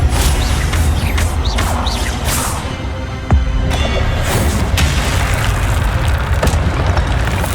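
A disarming spell is cast in the Hogwarts Legacy wizard game: a sharp, loud magical impact with a whooshing burst, set among ongoing booming, crackling combat effects.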